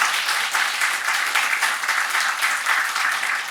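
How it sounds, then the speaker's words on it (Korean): A church congregation at a Sunday morning service gives a warm round of welcoming applause, steady and fairly loud with a gently pulsing texture throughout. "환영의 박수 감사합니다"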